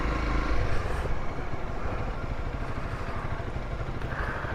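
A Honda CRF 300L motorcycle rumbles along while being ridden around Puerto Princesa, with a steady, moderately loud engine chug and road noise throughout and no talk.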